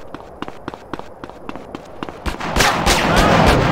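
Gunshots in Grand Theft Auto San Andreas: a steady run of sharp, evenly spaced shots, then a louder burst of noisy, continuous gunfire near the end, with no talking.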